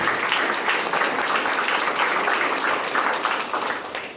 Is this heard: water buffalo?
no